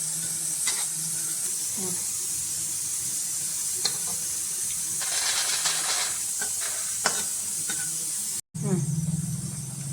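Seeds dry-roasting in a pan while being stirred, heard as a steady close sizzle and hiss with scraping stirring strokes, continuing under a woman's speech.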